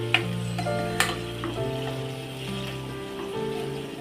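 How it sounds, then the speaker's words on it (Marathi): Raw ground masala frying in oil gives a steady close sizzle with faint stirring ticks and a couple of light clinks, no talk over it. "याला पण आपण 10 मिनटं मस्त तेलामध्ये फ्राय करून घ्यायचं आहे."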